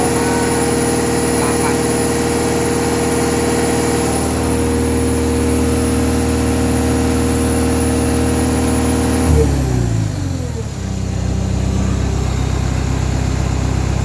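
A Komatsu SAA4D102E-2 diesel engine in a D31PX-21 bulldozer runs at high idle with a loud, steady droning hum that shifts in pitch partway through, then settles into a lower, rougher note.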